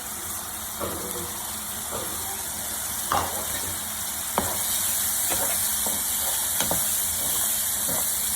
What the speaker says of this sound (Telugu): బాగా ఫ్రై అయిపోవాలన్నమాట ఈ పేస్ట్